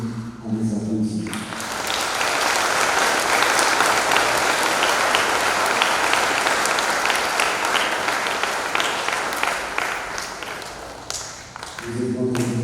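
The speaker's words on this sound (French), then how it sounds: "Je vous invite à les applaudir." A church congregation applauds during a thanksgiving Mass for a sixth anniversary, full sustained clapping that swells after a quiet start and dies away near the end, with faint voices at either edge.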